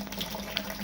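Mash liquid from a whisky grain-to-glass brew drains into a boiler, a steady close trickle and splash of running liquid with a small burble partway through.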